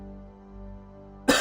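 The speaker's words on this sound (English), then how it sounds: "So expect a large amount of coughing." A single sudden cough bursts out near the end after a quiet stretch of faint tonal background hum.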